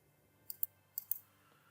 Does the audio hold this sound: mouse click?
yes